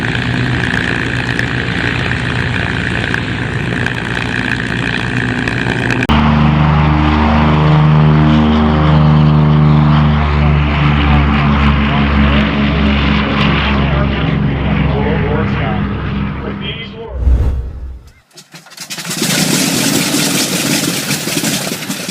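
Lockheed P-38 Lightning turbo-supercharged aircraft engine starting and settling into a loud, rhythmic propeller drone, then briefly cutting out before a burst of broadband noise returns.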